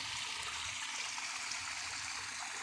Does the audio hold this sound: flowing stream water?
yes